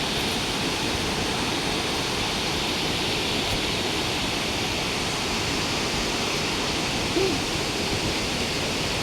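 Waterfall water pours over large boulders at Wawa Dam, a dense, steady roar of rushing water that stays loud and unbroken throughout, with no voices over it.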